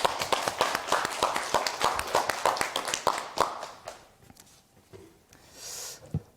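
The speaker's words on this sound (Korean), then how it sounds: "큰 박수로 청해 듣도록 하겠습니다" A small audience claps for a lecturer at a Korean public talk on herbal medicine, a brisk run of close, sharp hand claps that fades out after about four seconds, leaving quiet room noise.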